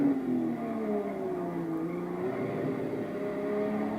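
Race car engines in Gran Turismo Sport, a moderate, steady engine whine with slowly shifting pitch as the cars drive, no talk.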